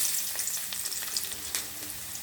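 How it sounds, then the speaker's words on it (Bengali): Onions frying in hot oil in a pan on the stove for a vegetable dish with figs, a steady close sizzle with light crackles and stirring, no talking. "তেলটা দেওয়ার পর এখন পেঁয়াজগুলো দিয়ে দিব।"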